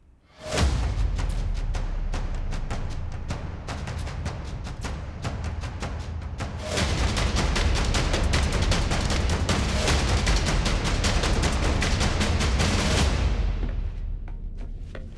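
Many guns mounted on a starship in a video game fire in long, rapid bursts, first a rattling stream of shots, then a louder, denser barrage that runs for several seconds before cutting off, close and loud.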